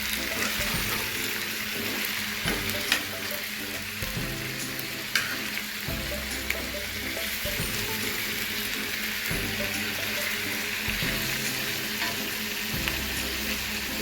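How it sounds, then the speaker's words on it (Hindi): Dumba mutton pieces sizzle and fry in a karahi pan, a steady loud crackle with occasional scraping stirs and clinks of a utensil, close up and without speech. "अब इसको मैं इतना भूनूंगी कि ये वाइट हो जाए।"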